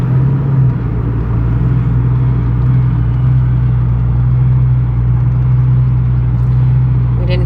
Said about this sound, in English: We didn't pick the most smooth car to take on this ride, so sorry if the footage is a little bumpy.